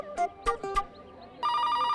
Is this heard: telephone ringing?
yes